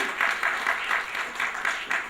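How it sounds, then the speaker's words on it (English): Audience applause at an award function in New Delhi, a steady clatter of many hands with a gently pulsing rhythm, moderately loud and continuous throughout. "Let's keep the applause going"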